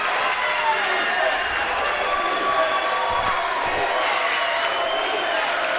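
A high school boys' basketball regional tournament crowd, student section included, roars and cheers in a gym with a steady, dense wall of noise while an announcer talks over it.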